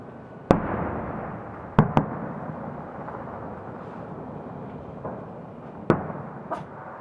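Victory Day fireworks over a river by a bridge in Kaluga, 2018, give about five sharp bursts at uneven gaps. Several come in quick pairs. A steady outdoor background hum runs underneath.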